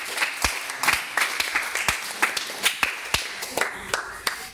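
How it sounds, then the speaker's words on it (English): Scattered, uneven clapping from an audience after a school debate on legalizing divorce in the Philippines, a handful of distinct sharp claps in loose rhythm at moderate distance, fairly sparse rather than a full ovation. "So, a round of applause for them."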